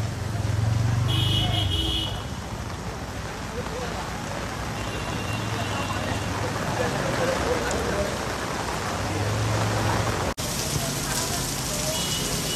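Steady rain pours down over a crowded street in Dadar, Mumbai, a dense continuous hiss with low traffic rumble throughout and a brief sharp knock near the end.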